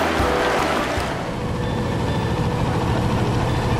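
A steady, droning boat engine running close by on a river in China, a constant low rumble with a faint high whine.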